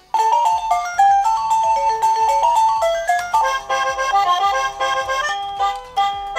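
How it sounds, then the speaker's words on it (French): A SMART9 Wi-Fi smart doorbell plays through a series of electronic ringtone melodies, bright chiming note sequences switching from one tune to the next, loud and close with no talking. "on va pouvoir aussi changer les différentes sonneries"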